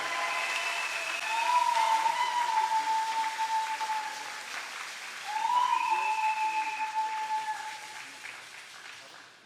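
A church congregation at a Sunday service applauding the pastor: sustained broad clapping from a crowd with two swells, accompanied by a held organ-like tone, moderately loud and filling the room.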